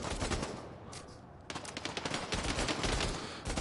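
Gunfire rattles in the Bravo Team VR shooter on Spec Ops difficulty, loud rapid bursts that ease briefly and then resume in dense volleys, with no voices over them.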